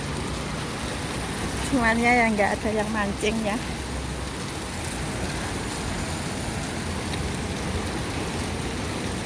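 Light rain falling steadily in Hong Kong, a soft broadband hiss running through the whole stretch, with a person talking briefly near the start over it.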